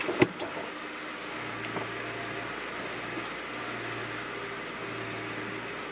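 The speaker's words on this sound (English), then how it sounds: "my power steering making noise." A car's power steering whines while driving, a low droning hum that rises and falls in long stretches over steady road and engine noise, from a car whose timing belt later broke on the highway.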